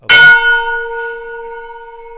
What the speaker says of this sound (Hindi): 51 किलो का घंटा है यहाँ पे।